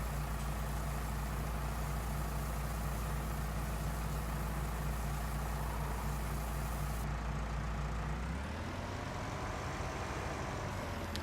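A farm vehicle engine in Farming Simulator 19 lifting a pallet on its forks: a deep, steady idling rumble that shifts and drops in pitch toward the end as the load is raised, with no talk.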